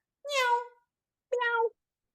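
A person imitates a cat during a vocal exercise, giving two clear, drawn-out meows separated by a short pause, close and fairly soft.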